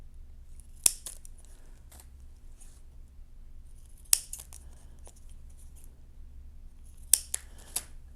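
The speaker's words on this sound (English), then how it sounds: "Then I cut them to points" Scissors snip paper strips, about six inches long and one inch wide, into pointed ends for a woven artwork: a few crisp, close cuts separated by quiet pauses, occasional paired snips near the end.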